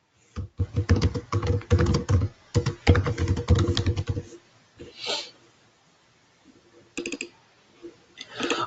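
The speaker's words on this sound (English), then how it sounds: "Let me type a message maybe." Rapid keystrokes on a computer keyboard while a chat message is typed, coming in dense bursts with short pauses, close and fairly loud, followed by a few scattered clicks.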